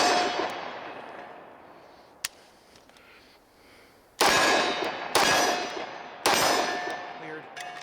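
A Cosaint Arms 10mm 1911 pistol fires several sharp, loud shots with ringing decay, one faint early crack and then three close blasts about a second apart.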